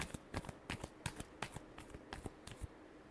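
Tarot cards being shuffled by hand in a quick run of crisp riffling slaps and flicks, close and fairly quiet, with no talking.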